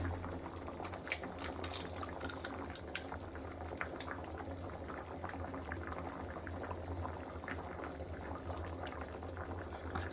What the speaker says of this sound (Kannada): ಚೆನ್ನಾಗಿ ಕುದೀತಾ ಇದೆ